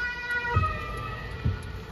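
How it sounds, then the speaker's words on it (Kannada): An ambulance siren wails continuously in the distance over a low rumble, with a couple of dull thumps nearby, in a village in Austria. "ಇವಾಗ ಆಂಬ್ಯುಲೆನ್ಸ್ ಬರ್ತಿದೆ"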